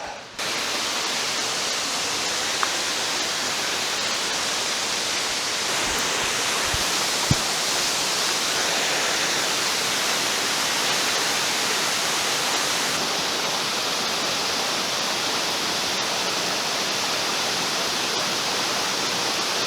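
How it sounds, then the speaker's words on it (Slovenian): The fifth waterfall in Pekel gorge roars steadily up close, a dense, unbroken rush of falling water that fills the whole scene without voices. "Zdaj pa tukaj pod petim slapom"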